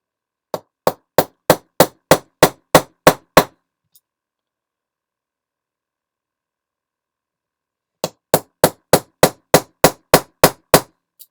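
A small hammer taps metal while piercing, a quick, even series of about ten sharp metallic strikes, a pause of silence, then another matching run of taps.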